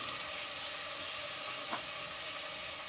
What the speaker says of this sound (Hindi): अभी हम इसमें डालेंगे लहसुन, हाफ़ टेबल स्पून लहसुन डाल के 2-3 सेकंड हम इसे भूनेंगे